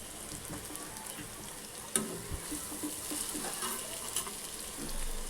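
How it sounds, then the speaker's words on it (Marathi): Chopped vegetables tossed into a hot pan for veg momo filling, sizzling and crackling steadily with a few sharp clatters of a utensil against the pan, close and fairly loud with no talk. "यामध्ये आता मी भाज्या ॲड करते ज्या कट केल्या होत्या"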